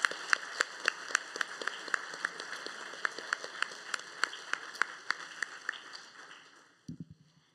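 A crowd at a graduation ceremony applauds steadily with sharp individual claps standing out, then the clapping fades away near the end, followed by a brief low thump.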